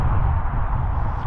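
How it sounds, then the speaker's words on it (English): Steady broadband roar of M62 motorway traffic heard from Windy Hill, a continuous low rumble with no distinct passing vehicles, fairly loud and unbroken throughout. "The noise you can hear is the M62 motorway"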